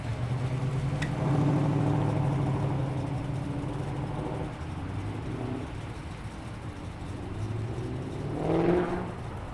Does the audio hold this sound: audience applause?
no